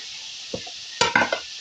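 Potatoes, capsicum and spices are stirred in a pan with a few quick scraping strokes and soft clinks, one near the start and a short cluster after it, over a faint steady background hiss.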